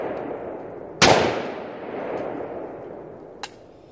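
A Serbian AKM rifle fires one loud, sharp gunshot outdoors, its echo trailing away for a couple of seconds, followed later by a fainter second shot.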